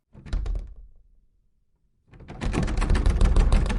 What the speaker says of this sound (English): I heard him rattling the knob of the pale man's door.